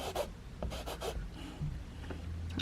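A regular pencil marking a surface: several brief, soft scratching strokes in an uneven rhythm, close and quiet, with no voices.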